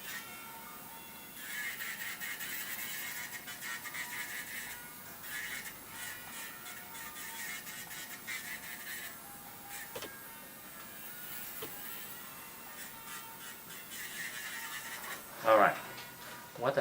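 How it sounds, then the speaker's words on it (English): Fingernails are sanded down with a small file or buffer in a dip powder French manicure, producing faint, soft scratchy rasping in short uneven bursts, quiet and close. "after you sand off 10 nails like this, dust free"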